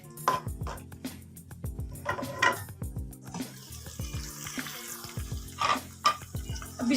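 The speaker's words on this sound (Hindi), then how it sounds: "अभी हम इसको अच्छे से फ्राई कर लेंगे प्याज को।" Chopped onion frying in cooking oil in a pan for a homemade chicken vegetable spaghetti, a steady close sizzle broken by repeated scraping stirs and clinks of a spoon against the pan, with no talking.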